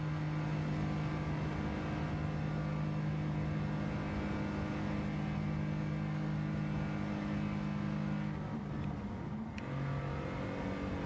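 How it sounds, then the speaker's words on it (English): Supercharger whistle from a race car in Gran Turismo 7, a steady high whine sitting over a continuous engine drone, briefly dipping near the end. "And I hear the supercharger whistling too."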